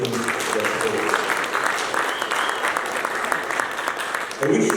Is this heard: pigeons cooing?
no